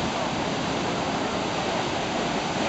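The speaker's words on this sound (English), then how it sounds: "this whole big old lake back here is just draining really quickly" Water from a lake draining fast after a dam failure rushes in a steady, dense roar close by, with no breaks.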